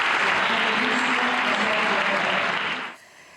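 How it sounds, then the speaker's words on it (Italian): Loud, dense applause for a children's choir in a TV news broadcast fills most of the moment, then cuts off sharply near the end. "E continuiamo con gli applausi"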